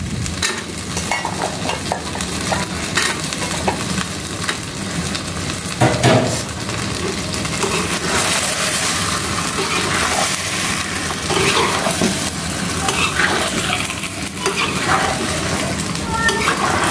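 Meat with jackfruit seeds frying, a loud dense sizzle with ongoing scraping and stirring, a few knocks of the utensil against the pot.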